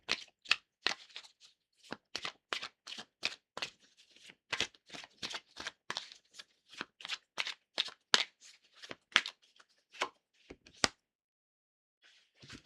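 Oracle cards being shuffled and drawn, a long run of crisp riffling snaps and flicks in quick irregular bursts, close and fairly loud, ending in a brief quiet pause with no talk.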